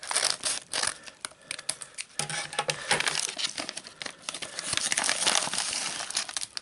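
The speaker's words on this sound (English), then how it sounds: "Let's open another packet first of all and see what we get. Right, I think I'll need a pair of scissors for this." Plastic crinkling and rustling as a Lego Classic Space minifigure packet is cut open with scissors, close and busy with continuous crackles and small snips throughout.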